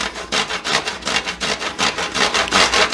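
A chocolate bar is rubbed against a grater in quick, even back-and-forth scraping strokes, close and fairly loud, with no talking.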